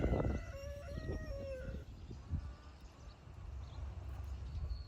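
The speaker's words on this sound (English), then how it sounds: "they are quacking away right now" Several high chirpy quacks of baby ducks kept in a garage at first, then a low rumbling background with faint scattered sounds.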